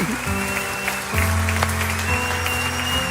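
A church congregation applauds after being asked to stand, a steady wash of clapping running throughout over sustained music and a low hum.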